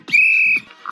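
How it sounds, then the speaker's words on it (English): A rape whistle gives one short, sharp blast of about half a second, loud and close, then cuts off into silence. "It's a rape whistle."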